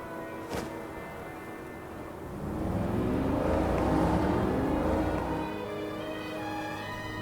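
Animated LEGO Batman cars drive by, an engine hum swelling into a louder mid passage and then easing off, steady and close with no speech.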